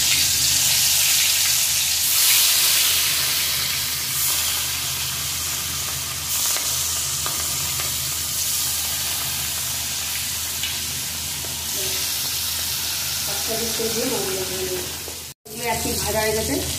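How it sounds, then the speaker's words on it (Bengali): Salted hilsa pieces frying in mustard oil in a village kitchen, a loud, close, continuous sizzle that holds throughout, with a brief break near the end and faint clinks of the pan. "মাছগুলো ভেজে নেব।"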